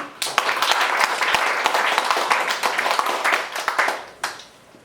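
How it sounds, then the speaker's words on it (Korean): A lecture audience breaks into sustained applause, many hands clapping densely and fairly close for several seconds before it tapers off near the end. "좀 박수를 쳐주시죠"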